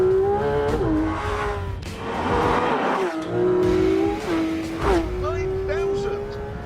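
A Porsche 911 GT3 RS with a naturally aspirated 4-litre flat-six, redlined at 9,000 rpm, revs hard and close, its pitch climbing and dipping across several shifts while someone talks over it.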